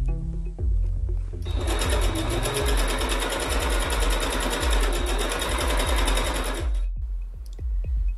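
A sewing machine stitches T-shirt fabric panels in one fast, continuous run of about five seconds, a loud, dense mechanical whir with a few slower stitches before and after.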